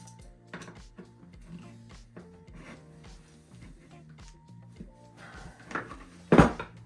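Bottom mount bolts being snugged up on a Stihl 362 chainsaw build: soft ratcheting clicks and metallic rubbing over a steady low hum, close by, ending in a louder clatter near the end, with no talk.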